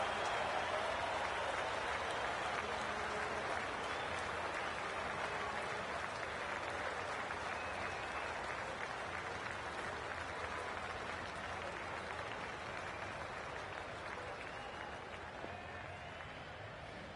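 A stadium crowd applauds and cheers in the Cricket 24 video game on PS5 before play gets underway, a steady, dense wash of clapping that fades gradually over the stretch.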